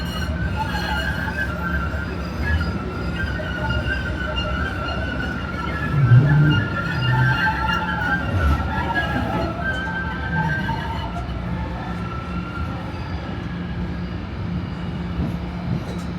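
Boston T subway train rolling along the Green Line near Boylston, a continuous low rumble with tonal motor whine and faint squeals, a brief louder surge midway, heard from inside the car with no talking.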